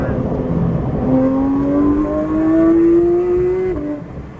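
A Porsche 992 GT3 with a Dundon exhaust system and titanium muffler revs up, its tone climbing smoothly for nearly three seconds before dropping off, loud and close.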